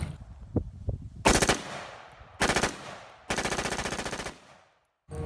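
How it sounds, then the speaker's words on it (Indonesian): Toy M4 gun fires three electronic bursts of rapid machine-gun shots, each loud and rattling, the last and longest about a second, separated by quiet gaps with small handling clicks. "ternyata ini senjata M4."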